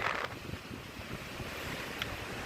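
Gusting wind buffets the microphone on the Black Sea shore, a steady rumbling roar with waves washing faintly underneath and no voices.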